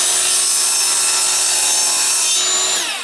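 Saw coping a piece of wooden base trim during a kitchen remodel, a close, loud, continuous high-pitched cutting whine lasting about three seconds and fading at the end.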